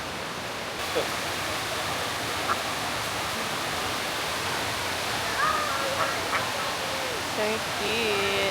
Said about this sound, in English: But here is the waterfall.